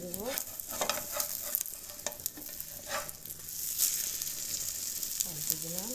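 An egg frying in a pan, sizzling steadily with scraping and stirring noises from a spatula as it is flipped, a few sharp clinks, and a lid rattling at the end.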